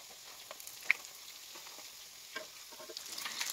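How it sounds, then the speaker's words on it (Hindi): Bread rolls frying over a low flame give a soft, steady sizzle with scattered light crackles and pops, fairly quiet throughout and rising slightly toward the end, with no voices. "इसको हम लो फ्लेम पे 2 से 3 मिनट के लिए एक साइड फ्राई होने देते हैं"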